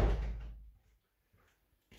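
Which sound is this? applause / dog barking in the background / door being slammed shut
door being slammed shut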